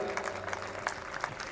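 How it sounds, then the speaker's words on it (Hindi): Audience applause at a lively gathering, a dense patter of many hands clapping with a few sharper claps standing out, heard on its own without talk. "एक बार जोरदार तालियां।"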